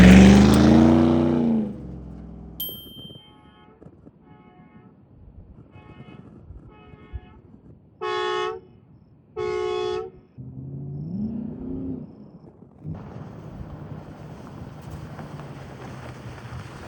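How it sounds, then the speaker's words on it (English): Two loud, sustained blasts from an air horn fitted to a 1957 Chevy, each about a second long, in a row, with wind and vehicle rumble before and after. "Definitely a very loud air horn."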